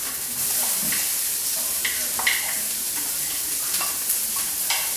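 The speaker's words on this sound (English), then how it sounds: "what I'm going to do now is actually just gently cook some onions with some garlic" Onions and garlic cooking gently in a pan, making a steady soft sizzle with occasional scrapes and stirs heard throughout, and no talking.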